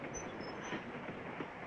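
A train rolling along rails in a 1959 film, a steady close rumble with faint rhythmic wheel clatter and a thin squeal, continuous throughout with no talk.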